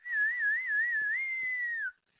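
A single clear human whistle imitates a street ice cream vendor's call, a sustained high tone with a gentle wavering trill that holds for nearly two seconds and then slides down and stops, close and alone.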